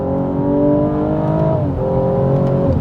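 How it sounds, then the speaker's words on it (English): A 2015 BMW M135i F20 turbo engine pulls hard on a motorway from inside the cabin, its tone climbing steadily, dipping briefly at a gear change, then rising again. "Out here on the motorway, this car is very quick. Foot down."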